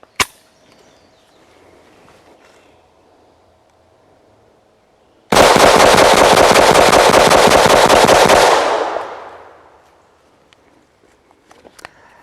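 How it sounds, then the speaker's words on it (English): A Taurus TX22 .22 pistol fitted with a Black Box M22 suppressor fires rapidly at a range, a dense, loud string of shots lasting about three seconds that tails off into quiet, with a few faint clicks after. "Let's go ahead and do a quick rapid fire just to make sure there's no malfunction issues with that."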